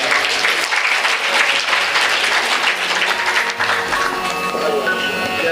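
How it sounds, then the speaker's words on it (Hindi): Loud, dense applause from an audience at a Shrimad Bhagwat Katha religious gathering in Hoshiarpur, steady clapping filling the space throughout, with some voices faintly mixed in near the end. "इनके लिए जोरदार तालियां।"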